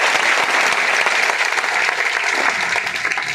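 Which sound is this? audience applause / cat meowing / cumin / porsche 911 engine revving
audience applause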